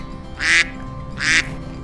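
An educational 4D card toy plays two short, bright electronic duck quacks, spaced about a second apart, close and clear against a quiet background.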